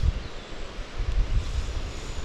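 Gusty wind buffeting the microphone on a shore during spinning fishing, a low rumbling roar that swells and eases continuously, with no voices.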